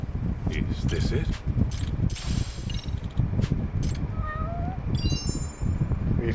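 A cat meowing in the Kaito Files DLC video game, several short mews rising over game sounds and music while someone talks throughout.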